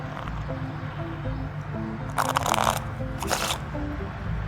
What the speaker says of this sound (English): the kind of shuffle that I'm gonna try and teach you today is this one